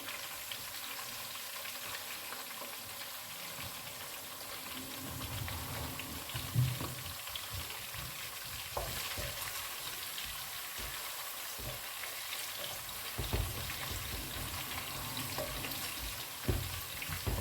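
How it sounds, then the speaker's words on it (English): Tilapia gravy stew stirred in a pot, a faint soft sizzle with occasional quiet scrapes and knocks spread through a low, steady background. "Just keep stirring, all right?"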